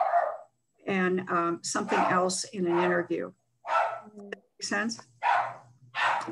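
A pet dog gives a few barks and yips that come and go beneath someone speaking continuously in an indoor talk setting.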